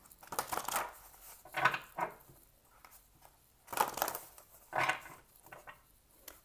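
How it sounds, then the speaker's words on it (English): Oracle cards being shuffled by hand, several bursts of papery riffling and slapping separated by short quiet gaps, close and fairly soft, with no voice. "shuffle these really quick."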